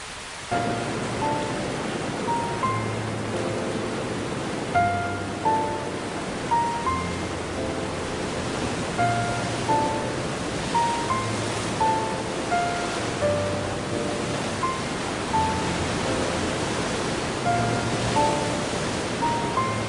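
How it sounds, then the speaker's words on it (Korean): Waterfalls large and small pour down a forest valley at the end of the dry season, a steady broadband rush of falling water filling the whole scene, with faint repeated tones riding above it. "골짜기마다 크고 작은 폭포들이 제 길을 따라 생명을 깨우고"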